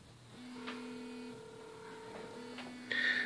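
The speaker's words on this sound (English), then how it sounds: "So it's ringing here." A cell phone ringing on a table beside iron filings, sounding as a series of steady electronic tones that rise and shift, with no one speaking.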